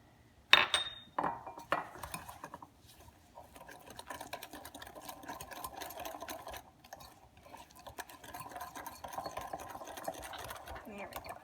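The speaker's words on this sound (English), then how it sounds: "Now that's all nice and whisked together and creamy." Banana cream pie custard filling being whisked in a pot, a steady soft scraping swirl running continuously after a few sharp clanks at the start, fairly quiet and close.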